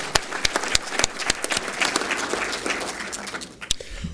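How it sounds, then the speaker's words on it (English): An audience at a panel discussion on electric vehicles applauds, a steady round of clapping with a few louder individual claps standing out near the mic. "I'd like to give a round of applause for that."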